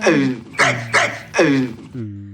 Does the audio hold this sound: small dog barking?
yes